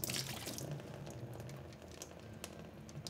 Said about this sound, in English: and water is going to come out